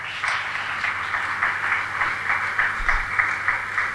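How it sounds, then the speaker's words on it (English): Audience applause at a convocation ceremony of a pontifical institute, a steady wash of many hands clapping in a hall, moderately loud and continuous. "Arul Anand, kindly give a big round of applause."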